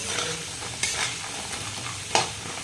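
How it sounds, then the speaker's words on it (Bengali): Pieces of taro fry in hot oil with a steady, close sizzle, punctuated by a couple of brief scraping stirs of a utensil in the pan. "প্রথমে আমি কচুগুলো ভেজে নিচ্ছি"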